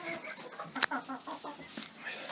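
A young rooster, about one year old and of a large breed, gives several short clucks and squawks close by, with one sharper burst partway through, amid faint farmyard background.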